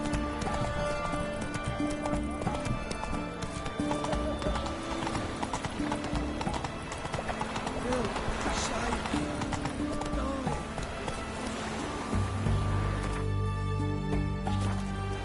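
In The Witcher 3, the horse Roach gallops with rapid, rhythmic hoof clip-clops and an occasional whinny, set against game music and a speaking voice.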